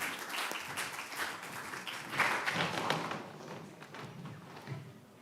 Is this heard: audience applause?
yes